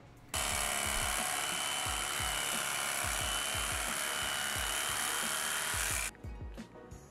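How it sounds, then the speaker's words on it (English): Electric drill boring a pilot hole through a motorcycle seat pan and frame pan on a BMW R75/5 build, a loud continuous high whine lasting about six seconds with a low rhythmic thumping beneath, then stopping abruptly. "So here I'm drilling a pilot hole through the seat pan and through the pan on the frame."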